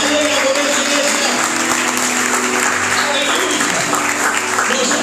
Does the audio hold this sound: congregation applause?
yes